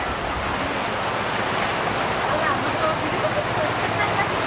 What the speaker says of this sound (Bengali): বৃষ্টি নিয়ে ঘুরতেছে, এই যে বৃষ্টি।